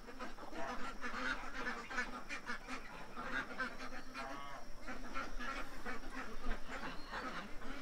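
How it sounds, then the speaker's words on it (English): Ducks quack near a back deck, a faint, continuous chatter of calls and honks against soft outdoor background noise, with no talking. "So there's ducks there."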